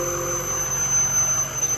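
A Ford 6.0 diesel turbo runs up over a low engine drone, and a sharp, piercing squeal from an exhaust leak ahead of the turbo holds loud and steady throughout.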